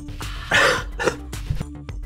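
A few rough coughs and throat-clearing sounds close to the mic, spaced apart over a quiet background hum.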